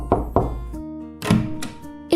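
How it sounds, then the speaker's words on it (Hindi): Two hollow knocks on a cartoon door sound close together near the start, followed by bright sustained musical tones and a few further light taps. "तो इसने इनके दरवाजे पर जाकर खटखटाया।"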